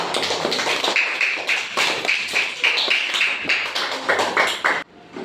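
Schoolchildren in a classroom clap together in a dense, steady patter of hands with rhythmic accents, close and lively, ending abruptly.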